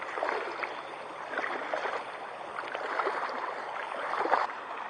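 Stream water rushing and gurgling steadily past a gold mining dig, a continuous close wash of flowing water with no voices.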